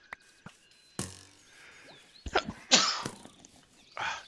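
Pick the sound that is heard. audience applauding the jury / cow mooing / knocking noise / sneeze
sneeze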